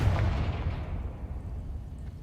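A Confringo fire spell blast in Hogwarts Legacy, a single loud, booming explosion at the start with a deep rumble that decays over about two seconds, alone without speech.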